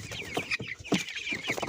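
Backyard chickens, including black-and-white speckled Plymouth Rocks, cluck close by in a quick, uneven run of short calls.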